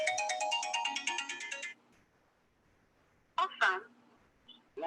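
An incoming call-in callback rings as a rapid, pulsing phone ringtone for under two seconds. A short automated voice prompt follows after a pause.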